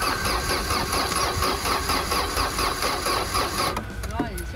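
A Citroën Xantia's starter cranks the engine in a rapid, even, whirring rhythm for nearly four seconds without the engine catching, then stops, leaving brief faint sounds behind.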